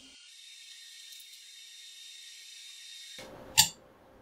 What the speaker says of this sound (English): you will be screwing steel screws into aluminum threads.